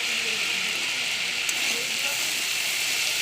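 Potatoes and onion stalks sizzle in hot oil with black cumin and green chillies in a wok, a loud, steady frying hiss running unbroken throughout.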